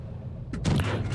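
A tank gun fires in World of Tanks from a VK 30 02 M, one short sharp blast followed by a rumbling tail, close and loud after a moment of quiet.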